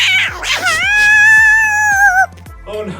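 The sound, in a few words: cat yowling after having its whisker plucked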